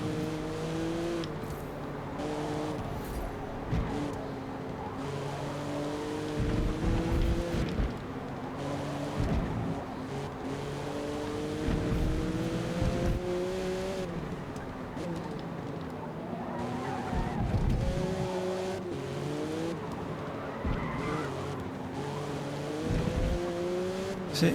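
Race cars in Forza Motorsport, including a Ferrari and a Porsche, roar steadily with shifting engine pitch, revving and occasional tire skids throughout, mixed with faint talk in the background.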